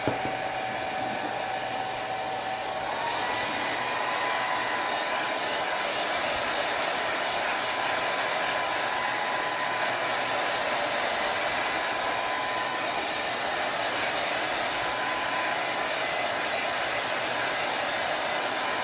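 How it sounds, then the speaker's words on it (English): A blow dryer runs continuously at close range, a loud steady rushing whir drying chalk paste during a craft demo, shifting slightly in pitch after the first few seconds and holding without pause. "I'm going to go ahead and use a blow dryer."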